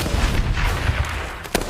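Gunfire in an action film, heard as dense rumbling shots with low booms throughout and a sharper crack near the end, with no voices.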